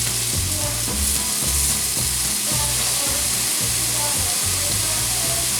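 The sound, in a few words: sausage frying in a pan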